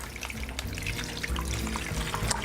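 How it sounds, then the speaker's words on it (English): Liquid brine is poured into a Ziploc bag set in a casserole dish, a steady close gurgling splash and trickle running throughout without pause. "Now we're just going to pour the brine in the bag."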